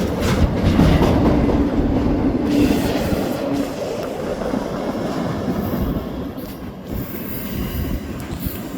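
A BNSF intermodal freight train rolls past at Galesburg with steady, loud rumble of railcars, rhythmic wheel clatter and intermittent high wheel squeal, sustained and close throughout.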